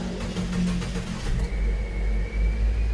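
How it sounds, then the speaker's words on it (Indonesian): Engine of a used Nissan Grand Livina with automatic transmission at a car showroom, a cranking start that settles into a low, steady idle rumble, close by with no talking. "Kita coba start up seperti apa suara mesin dari Nissan Grand Livina ini."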